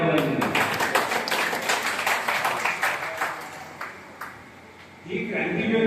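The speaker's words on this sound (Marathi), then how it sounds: "सर्वांकरता आणि सर्व करता एका जोरदार टाळ्या वाजवूया" Crowd at a public gathering clapping loudly in a dense, steady burst of applause that gradually thins out, before a voice begins speaking over a microphone.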